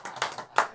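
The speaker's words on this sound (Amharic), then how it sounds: "አጨብጭቡለት" A small group claps at a gathering where a guest is welcomed, a few quick bursts of applause over under a second, close and fairly loud.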